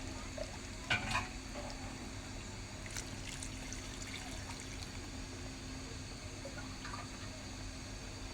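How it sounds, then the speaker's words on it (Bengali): Boiled water pours into country chicken curry cooking in a pot, a quiet trickling splash with a brief louder gurgle near the start over a constant low hum. "ফুটানো পানিটা দিয়ে দিতেছি"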